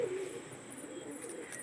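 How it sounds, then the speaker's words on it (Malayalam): Soft, low cooing from female pigeons in a home loft, heard faintly and a little distant over quiet room background. "പിന്നെ ഫീമെയിൽ പ്രാവുകളാണ്, ഇതെല്ലാം ഫീമെയിലിന് തുറന്നു വിട്ടിട്ടുണ്ട്."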